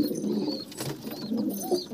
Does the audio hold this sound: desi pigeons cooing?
yes